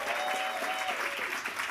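A room applauds five finalists at a student pitch competition, a soft, even wash of clapping heard somewhat distant, with a faint voice or tone lingering over it.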